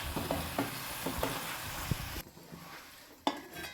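Potato curry stirring and sizzling in a cooking pot as water goes in, a steady frying hiss with scraping stirs, then the sizzle drops away sharply and a single clank follows near the end.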